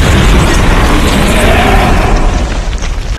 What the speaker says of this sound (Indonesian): sebuah serangan artileri tepat mengenainya